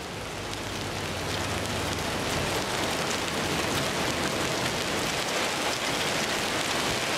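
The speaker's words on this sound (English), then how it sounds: "It's got rain, we got some light, or some small hail." Rain mixed with small pea-sized hail falls in a steady, dense, loud hiss that holds unbroken throughout, with no voices.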